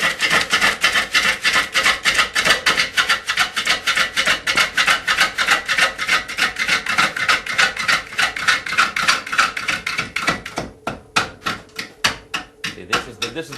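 Steady rhythmic scraping and rasping of a tool cutting spinning wood on a lathe, fast repeating strokes that slow into sparser, louder knocks near the end.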